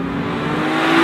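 A 2016 BMW M3 engine revs hard toward its 7,600 RPM redline, a steady, loud mechanical roar that builds slightly in intensity across a short, continuous burst with no talking.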